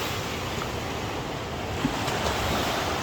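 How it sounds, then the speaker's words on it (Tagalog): Ocean waves washing in a steady roar of surf, broad and noisy with some wind rumble against the microphone, continuous and fairly loud with no voices. "Ang ganda ng karagatan."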